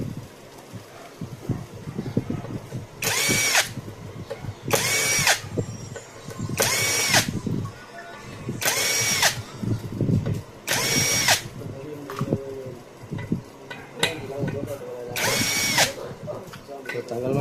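Power screwdriver backing screws out of a Padon PX1850 power amplifier, several loud whirring bursts of a few seconds each spaced through the stretch, with someone talking quietly in between.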